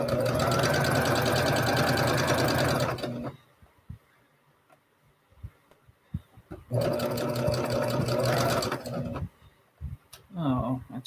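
A sewing machine stitches a plus-size pajama tee-shirt in two long, loud runs of steady mechanical whirring, with quiet pauses and a short burst at the end; soft talk is heard during the gaps.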